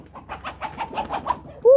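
A chicken clucks in a rapid run of short, throaty notes after taking a fallen durian outside a house, ending on a louder, drawn-out tonal cry.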